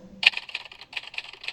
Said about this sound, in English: Typing on keyboard sound, no, that's not the one I want.